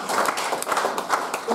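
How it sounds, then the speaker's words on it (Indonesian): A church congregation claps during a sermon, a quick run of scattered, fairly soft claps. "Yang ngerti boleh tepuk tangan yuk untuk"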